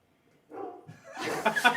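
Dogs barking in a short, faint flurry of yips, whimpers and bow-wows that starts after a moment of silence and grows busier toward the end.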